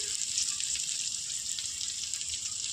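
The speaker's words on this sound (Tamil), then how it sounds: "கடுகு பொரிஞ்சிருச்சு" Mustard seeds spluttering and popping in hot oil in a home kitchen pan, a dense steady crackle and hiss without pause, close and fairly loud.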